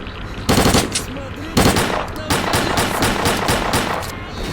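Rapid automatic gunfire in S.T.A.L.K.E.R.: Clear Sky comes in loud close bursts with brief pauses between them, and faint game voices sit under the shots.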